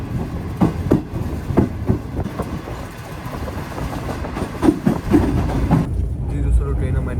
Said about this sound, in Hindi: ट्रेन हमारी निकल चुकी है नवाबशाह से